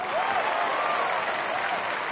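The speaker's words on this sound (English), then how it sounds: "everyone just started cheering like I just won the tournament" Spectators on a golf course cheer and applaud after a 3-wood approach shot on a long par four at a PGA Tour event, a steady wash of clapping and crowd noise filling the whole moment.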